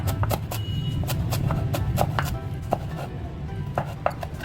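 Steady rapid knife chopping of green chillies, fresh coriander and mint on a board, close and continuous with quick rhythmic strikes throughout.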